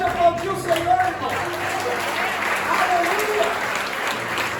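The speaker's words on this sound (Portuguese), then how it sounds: "Pode aplaudir o Senhor, irmão." Congregation clapping during a Portuguese-language church carnival conference service, a sustained dense patter of hands across the room with a voice speaking over the start, then the applause rising and holding steady.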